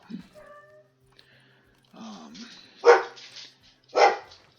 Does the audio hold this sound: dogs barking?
yes